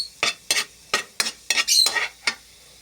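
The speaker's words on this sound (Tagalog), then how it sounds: "Yun, nilagay ko na yung kanin at minekos-mekos ko na mga idol." A spatula scrapes through garlic fried rice with native Ilocos garlic and sliced hotdog in a pan, making about eight crisp, close stirring strokes in a quick, even rhythm over a faint sizzle.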